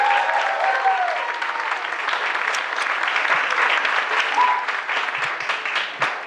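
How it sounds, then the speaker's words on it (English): Sustained audience applause fills a hall at the 2026 Delaware Futures in the Arts ceremony, a dense steady clatter of many hands clapping close and loud throughout, with a few brief whistles near the start and the middle. "Let's have one more round of applause for these humans."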